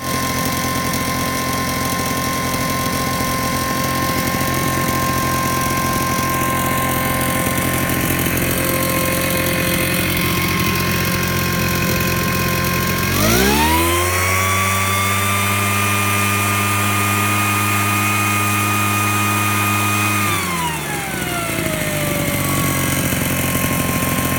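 The small gas engine of an Invatech Italia model 868 Mister Duster blower runs loudly and steadily at idle, then revs up to a higher pitch for several seconds before dropping back down.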